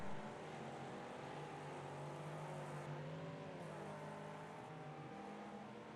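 Race cars in the video game Wreckfest accelerating up a hill in a Trans-Am series race: a continuous droning engine roar with climbing, overlapping pitches, steady and moderately loud with no talk.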